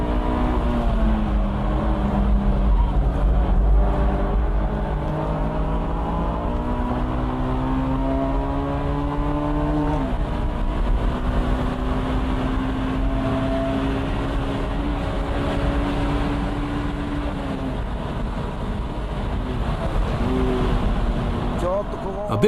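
A Honda Type R engine drones and shifts pitch as the car drives through corners, the steady tone rising, dropping and climbing again with gear changes over a continuous road rumble.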